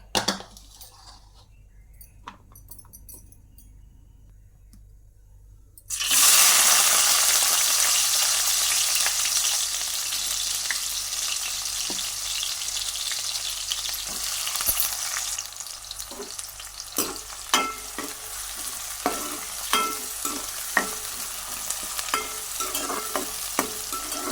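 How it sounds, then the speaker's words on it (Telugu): Onions dropped into hot oil in a pan on a stove burst into a loud, steady sizzle after a quiet start, with faint stirring scrapes and light clinks later on. "ఆయిల్ వేటెక్కాక ఉల్లిపాయలు వేసుకొని వేయించుకోవాలి"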